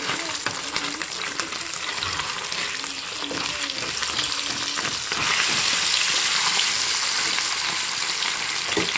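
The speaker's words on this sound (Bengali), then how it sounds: "ডুবো তেলে ভাজতেছি যাতে মাছটা না ভেঙে যায়" Fish deep-frying in plenty of oil crackles and sizzles close by, a loud steady bubbling hiss that grows fuller and louder partway through, with occasional stirring scrapes.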